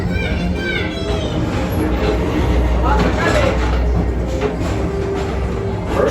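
The Walt Disney World Tomorrowland Transit Authority PeopleMover rolls steadily along its elevated track in a continuous loud rumble with rhythmic clicks, and a narrator's voice runs over the ride noise.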